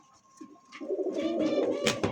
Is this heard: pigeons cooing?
yes